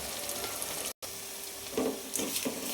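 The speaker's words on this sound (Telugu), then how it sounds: "ఒకసారి తిప్పేసుకున్న తర్వాత" A crab curry stirs and sizzles in a frying pan, a soft continuous frying hiss broken by a few scraping stirs toward the end, close up, with no talk.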